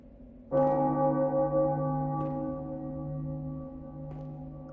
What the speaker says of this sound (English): Is that the bell I've been hearing in this game?